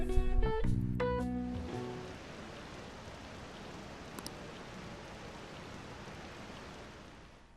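Steady soft rainfall in the Persona 5 Royal video game, a faint continuous hiss after a brief burst of game sound effects at the start.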